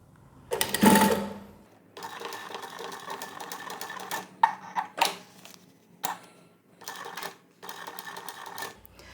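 An industrial walking foot machine, model 1903SX, sews through sixteen layers of upholstery fabric in a series of short, close bursts of heavy clacking, separated by brief pauses.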